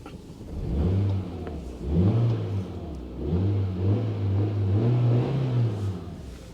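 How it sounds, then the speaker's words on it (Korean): A 2009 Kia Morning car engine revs repeatedly nearby, the pitch rising and falling in several swells over a steady idle, with no talking. "저희가 엔진 소리 한번 들려드릴게요."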